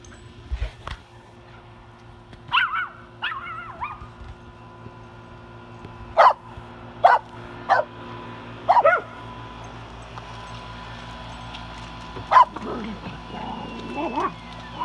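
Dogs barking outdoors near a house, several sharp barks and yips spaced irregularly over a quiet background, moderately close.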